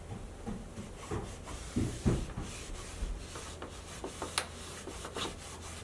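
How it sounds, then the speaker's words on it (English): Cloth rubbing glaze off a wooden stereo cabinet, producing soft irregular scuffs and rubs close by, quiet with occasional firmer strokes. "you just want to keep rubbing and rubbing until you don't have anywhere else to rub and nothing else comes off."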